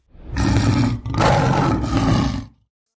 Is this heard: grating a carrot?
no